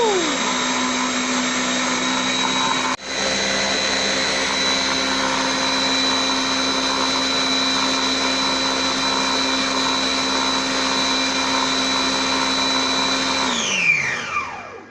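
A Compact Cook Elite food processor runs its washing cycle at 45 degrees, a loud, steady motor whine that ramps up at the start, holds a constant droning tone with one brief dropout, then winds down near the end.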